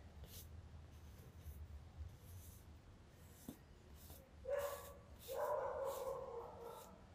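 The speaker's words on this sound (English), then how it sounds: "He barks at everybody just like our dog does." A neighbour's dog out on a walk, giving a few distant barks and yips late in the moment, faint and muffled behind quiet indoor background noise.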